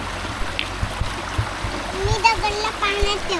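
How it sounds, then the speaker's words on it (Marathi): A stone is set into a forest stream during monsoon, with soft close splashes and steady trickling water while someone talks over it. "दगडला पाण्यात ठेवतोय"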